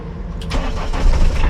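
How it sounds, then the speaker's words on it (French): A car that had sat unused for over a month with a weak battery cranks and fires up through a portable battery booster, catching quickly into a loud, steady idle close by. "Après vous avez juste à démarrer votre voiture."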